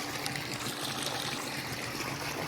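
Water in a swimming pool moves with a steady, soft trickling and splashing wash, continuous and fairly faint without a break.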